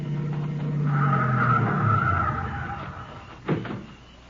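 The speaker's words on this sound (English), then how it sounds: "Here comes a couple of cars." Radio drama effect of a couple of cars pulling up and skidding to a stop, a long engine approach with a drawn-out tire screech, then a short thud like a door, loud and close.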